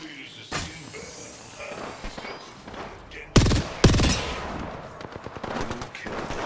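Bursts of gunfire in Apex Legends, sharp close shots with two loud volleys in quick succession amid scattered smaller reports, with a voice speaking over the action.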